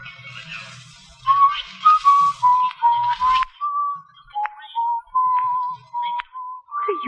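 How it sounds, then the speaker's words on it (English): A man whistles a simple tune, clear sustained notes and short chirps close up, starting soft and breathy before firmer phrases with brief pauses between them. "I'm whistling"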